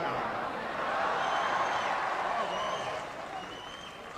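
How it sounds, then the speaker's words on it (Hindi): Audience at an outdoor poetry and speech event at Khilwat Ground in Hyderabad breaks into steady applause, a dense wash of clapping holding for several seconds and easing slightly toward the end. "अब आपकी तालियां उठेंगी"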